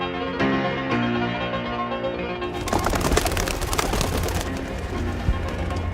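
Pigeons released from hands at a New York City wildlife rehabilitation center, where soft cooing gives way to a loud, dense flurry of wingbeats as the birds take off close by.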